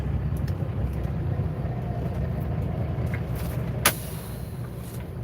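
An International 9900i Eagle truck with a Cummins ISX 500 engine and 18-speed transmission idles close by, a steady low rumble with a brief sharp click or hiss partway through.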